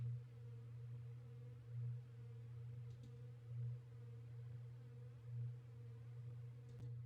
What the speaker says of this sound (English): Space flanger.